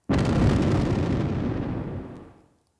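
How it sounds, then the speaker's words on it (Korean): A bomb hidden in a lunch box and water flask bursts in mid-air, a single loud, deep blast that booms out and slowly decays over a couple of seconds with no voices. "도시락과 물통에 장치된 폭탄은 공중에서 폭발했다"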